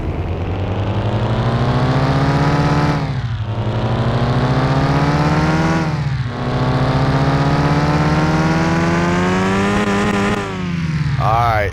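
A Mitsubishi Eclipse engine fitted with a Haltech ECU in Car Mechanic Simulator 2021 revs loudly and continuously against its rev limiter at about 6,300 RPM. The pitch climbs in several sweeps, dipping briefly between each.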